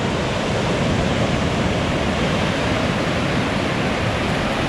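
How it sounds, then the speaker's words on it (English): Ocean waves break and roll in continuously on a summer beach at Tofino, a dense, steady broadband wash of surf with no clear individual crashes and no voices. "The waves are coming in layers."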